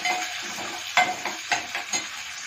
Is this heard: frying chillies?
yes